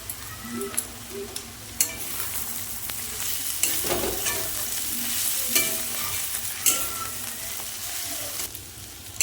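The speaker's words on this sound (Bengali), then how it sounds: "ঢাকাটা খুলে ভালো করে নাড়িয়ে নেব। চিচিঙ্গাটা ভালো করে নাড়িয়ে নিয়েছি।" Snake gourd fries in a pan, sizzling steadily up close while a spatula stirs and scrapes through it with sharp, irregular clicks.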